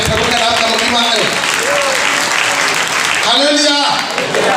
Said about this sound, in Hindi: ताली बजाकर प्रभु का नाम का महिमा करें।